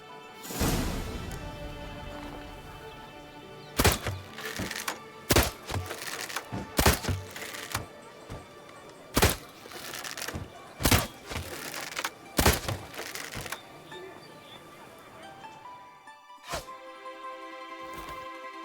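Arrows striking wooden targets at an archery range in The Witcher 3: Wild Hunt, a series of sharp, separate thunks and cracks arriving at irregular intervals over a soft background of music.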